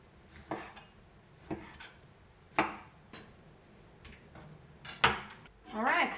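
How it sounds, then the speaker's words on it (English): A knife chops tomatoes into small pieces for homemade sauce, with separate sharp taps on a cutting board every second or so, close by, and a brief rustle at the end. "And the rest of it I just cut into small pieces."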